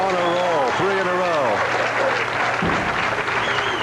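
Applause from bowling fans at the Bradley Bowl during a televised tournament, steady crowd clapping that fills the whole stretch while a commentator talks over it.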